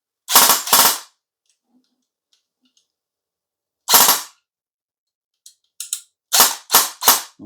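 An Acturus AK06 AK-style airsoft electric rifle fires sharp, loud single shots in separated pairs and bursts, with a few faint clicks between them in otherwise silent surroundings.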